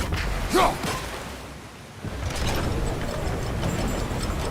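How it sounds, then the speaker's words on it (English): Wheel mechanism in God of War Ragnarok cranking round with ratcheting clicks and grinding gears, a whooshing swing early on, then a continuous mechanical churn, close and fairly loud. "There should be a way to turn the wheel"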